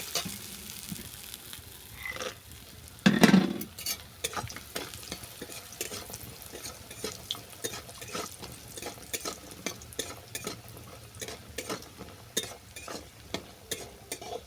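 Fish and lentil dumplings (bori) sizzle steadily in hot oil, with a loud burst near the start and light stirring and pan clicks throughout; no one speaks.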